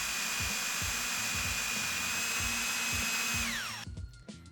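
A power drill whines steadily while boring 4.5mm pilot holes for M5 bolts for a reel bracket on a railgun, a loud continuous spin with rhythmic knocks, then the motor winds down and stops near the end.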